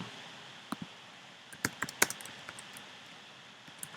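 Quiet, sparse keystrokes on a computer keyboard, a few isolated taps followed by a quick cluster of clicks in an otherwise hushed room.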